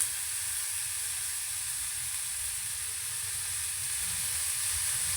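Finely chopped onion and tomato sizzle in a hot pan, a steady, even hiss with soft stirring scrapes underneath, loud and close with no talking.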